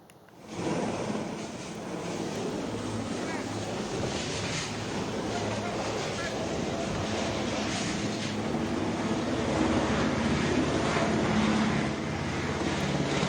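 A Super Puma helicopter lands in a field near homes, its rotor wash and turbine producing a loud, steady roaring rush that stays constant throughout, with faint voices underneath.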